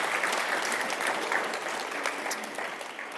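A small audience at a junior staff meeting gives a quiet, steady round of applause for the senior staff, a soft, distant patter of hands that never rises.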